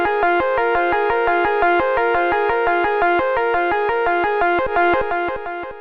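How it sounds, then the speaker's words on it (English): A looping synth-like musical pattern with a steady pulsing rhythm, delay repeats echoing behind each note, continuous and fairly loud throughout. "you can hear we now get the delay signal"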